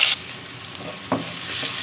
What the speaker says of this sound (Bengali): এখন এই পাত্রের মধ্যে আমি পেঁয়াজ কুচি দিয়ে দিচ্ছি।